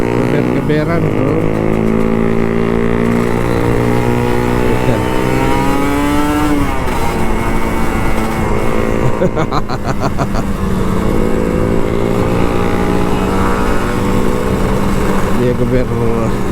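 Loud Kawasaki Ninja RR 150 motorcycle engine revving with rising and falling pitch, blipped repeatedly, heard close and continuous, with voices talking over it.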